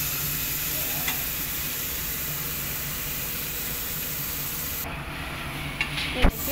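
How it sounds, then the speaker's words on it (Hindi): Tomatoes and onions fry for egg curry in a steady, close sizzle that runs throughout, with a few soft stirring clinks near the end. "अब हम टमाटरों को भी प्याज के साथ में भूनेंगे।"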